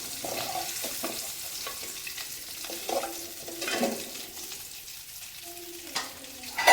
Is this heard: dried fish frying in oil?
yes